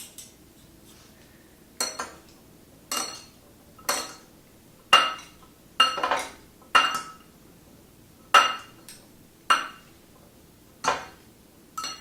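A salad of scallions, garlic and parsley gets mixed in a bowl for a Middle Eastern dish, with about a dozen sharp clinks of a utensil against the bowl in an irregular rhythm over a quiet background.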